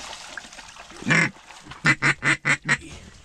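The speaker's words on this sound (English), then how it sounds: "There's ducks here." Ducks quacking nearby during a duck hunt in South Texas: one loud quack, then a rapid run of five raspy quacks in even rhythm, over faint background noise.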